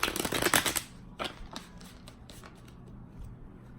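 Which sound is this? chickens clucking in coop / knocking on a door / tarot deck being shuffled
tarot deck being shuffled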